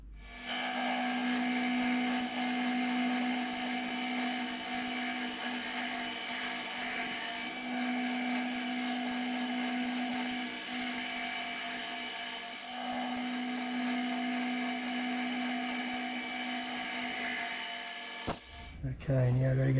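A milling machine opens a hole out to 10 mm with a steady, loud tonal whine of motor and cutter that holds for most of the clip, then cuts off abruptly near the end.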